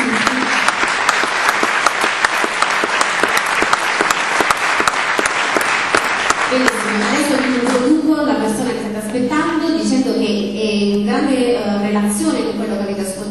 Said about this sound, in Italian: credo che a loro veramente vada il più grande applauso